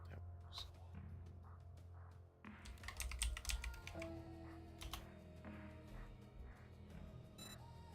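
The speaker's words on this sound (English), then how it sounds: "Try typing in bookstore," Someone types on a computer keyboard, with a fast, irregular run of close clicks and clatters that picks up after a brief quiet spell. A faint voice sits under the keystrokes.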